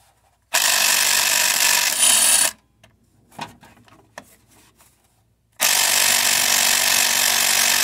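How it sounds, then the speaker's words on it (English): A power tool spins out an E10 bolt on a Mercedes 722.9 4Matic transfer case of a 2011 GLK 350, being rebuilt in the car: two loud, steady bursts of about two seconds each, separated by quieter clanks and handling noises. "the bolt is an E10, and it should come out pretty easy, not under a whole lot of stress."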